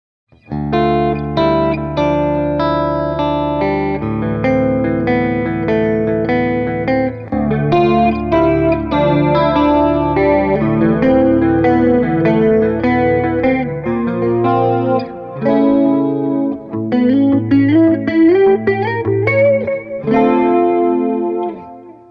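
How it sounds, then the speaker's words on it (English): Electric guitar played through a Visual Sound H2O Liquid Chorus Echo pedal, first with echo alone and then with chorus added, a continuous loud melodic passage with trailing repeats and a shimmering, wavering tone, no voices. "We're going to start off with the echo side of the pedal on, then we're going to add the chorus."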